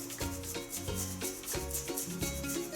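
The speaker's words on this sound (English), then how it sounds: "Let's grate the ginger." Fresh ginger rubbed against a grater for a chicken and almond stir fry, a steady run of short rasping strokes in a quick, even rhythm, close by, over a bed of background music.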